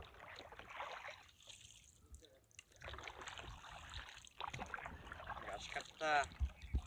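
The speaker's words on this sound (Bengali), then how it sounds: "একজন লোক নৌকা নিয়ে যাচ্ছে" A man rows a small wooden boat across a wetland in Ishwarganj, Mymensingh, oars dipping with soft water sounds under wind and steady talk between people nearby.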